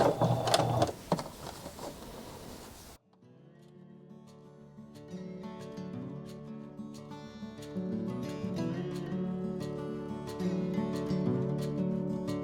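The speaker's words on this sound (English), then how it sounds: "I am just going to sleeve that and run a straight stitch across" A sewing machine runs a straight stitch across a bias-tape sleeve on a children's face mask, with a few seconds of rapid rattling stitching followed by a different steady mechanical passage.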